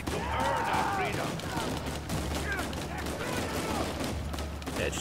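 Gunfire from the video game Uncharted 4 sounds as bursts of shots over a dense, continuous game soundscape, steady in level with no pauses.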